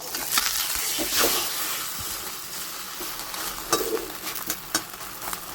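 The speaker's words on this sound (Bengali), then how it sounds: "ডিমটা যে আমি ফেটিয়ে রেখেছিলাম সেটাও দিয়ে দিচ্ছি উপরে একটু কম আঁচ করে ভাজবো" Beaten egg sizzles and crackles in a hot pan over low heat with cabbage, a steady frying hiss with a few sharper pops and scrapes of stirring, no voices.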